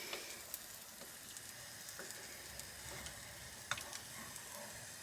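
Onions frying in a pan for an omelette wrap, cooked in a motorhome at a caravan show; a soft continuous sizzle with scattered ticks and light scraping clicks as they are stirred, fairly quiet, no talking.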